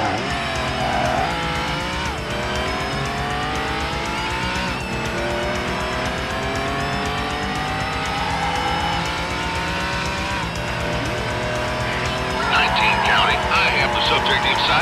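Red Porsche 911 Turbo engine roaring through a high-speed police pursuit in Need for Speed Hot Pursuit 2, a steady loud drone with rising and falling gear sweeps, tire squeal near the end and music underneath.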